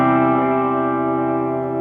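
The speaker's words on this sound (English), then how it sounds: "And if I turn that delay up, it's going to be like an echo." A new electric guitar strummed through its amp with the delay effect turned up; one sustained, ringing chord holds steady and loud with smeared repeats trailing underneath, slowly fading, with no voices.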